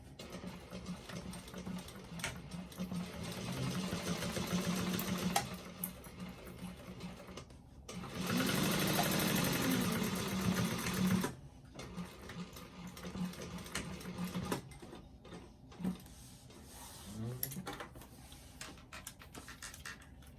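A sewing machine closes a bag pocket with an eighth-inch seam in polynylon bonded thread, short runs of rapid stitching with one louder sustained burst in the middle, mixed with handling clicks and rustle.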